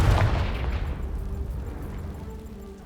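A Confringo blast spell goes off in the Hogwarts Legacy video game: a loud, booming explosion at the start that rumbles and fades away over about three seconds.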